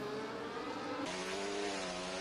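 Race car engines in a Silverstone racing game hold a steady, loud drone, then rise sharply in pitch and intensity as the pack accelerates away from the safety car restart.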